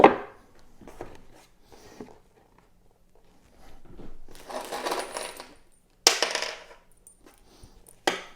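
Screws handled during Warre beehive assembly: sparse small metallic clinks and taps close by, a few brief rustling scrapes, and two sharp louder clicks near the end, otherwise quiet.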